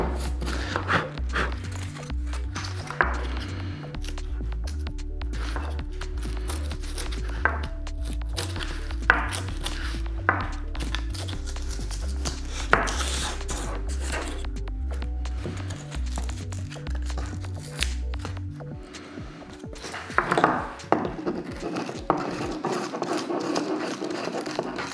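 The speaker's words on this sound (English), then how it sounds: "you can always go over with the tip of your razor blade and just scrape it out" A razor blade tip scrapes leftover foam out of a cut channel in foam board, giving repeated short scratchy strokes close by, partly masked by steady rhythmic background music.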